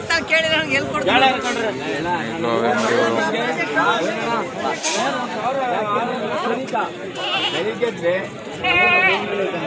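Sheep and lambs bleat again and again at a busy sheep market in Magadi, with many animals calling close by over steady crowd chatter and talk.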